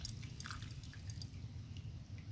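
NPK fertilizer granules drop into water, a few soft close drips and plinks over a low steady background hum, faint and without talk.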